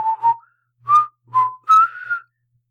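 A person whistles a short melodic tune in four clear phrases with brief pauses between them, close and fairly loud, with no talking.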